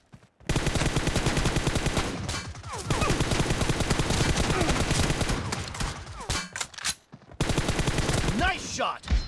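M416 rifle fire in a PUBG Mobile one-on-one fight, with long loud sustained automatic bursts, brief pauses between strings of rapid shots and close, dense reports throughout.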